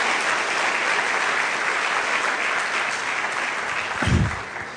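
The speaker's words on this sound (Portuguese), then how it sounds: "Vamos dar um aplauso ao Senhor Jesus" A church congregation applauds in praise of Jesus, a steady wash of many hands clapping that holds evenly for several seconds, with a low thump near the end.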